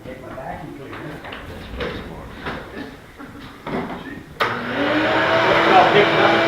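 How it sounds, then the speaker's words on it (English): A vacuum cleaner starts up in a woodturning workshop, a loud steady roaring whine kicking in abruptly after a stretch of quieter shuffling and speech. "And I take my vacuum cleaner."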